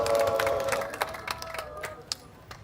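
A crowd at an outdoor memorial cultural event near Sangnoksu Station claps and cheers warmly, with a busy wash of voices and scattered hand claps that thin out and fade over a few seconds.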